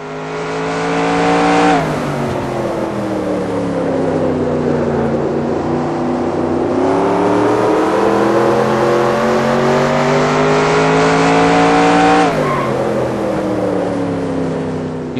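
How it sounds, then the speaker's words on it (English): A simulated stock car at full throttle on the Martinsville short track in the NR2002 racing game, a loud, sustained engine drone with the pitch sweeping gradually and shifting sharply a few times, close and continuous without talk. "Now you're set up to go full throttle down the front straight and begin another lap."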